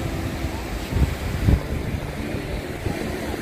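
A gentle sea breeze blows across Rabindranath Tagore Beach at Karwar in Karnataka, with soft wind rumbling and gusting against the microphone alongside the distant wash of the sea.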